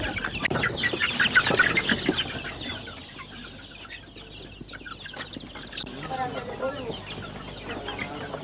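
Chickens cluck and squawk in a small poultry house, a busy mix of close hen calls, strongest at first and then settling into steadier clucking, with a voice speaking faintly underneath.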